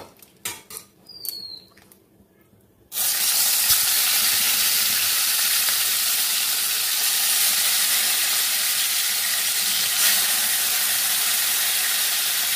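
Fish frying in a pan. A few light clinks come first, then a loud, steady, hissing sizzle takes over and continues without a break.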